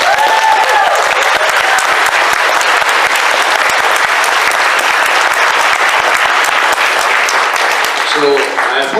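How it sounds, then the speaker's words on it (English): Convention audience clapping in a dense, sustained roar of applause throughout, loud and close, with a voice briefly emerging near the end. "So a big round of applause for Moff."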